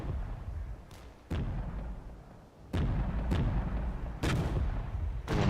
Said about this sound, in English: It's only small 81mm mortars, so damage is somewhat limited